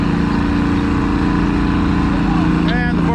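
Ford tractor engine straining as it pulls a sled across a slippery sponge track, a loud close continuous droning roar, with an announcer talking over it near the end.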